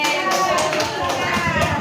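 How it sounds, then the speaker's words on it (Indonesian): A school audience at an outreach session gives a short burst of clapping, rapid irregular claps close by with voices mixed in. "Tepuk tangan"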